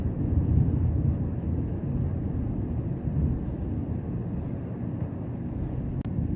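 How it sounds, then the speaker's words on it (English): Thunder rolls as a long, low rumble with no clear onset, heard steady and continuous throughout. "Oh, now it's thundering."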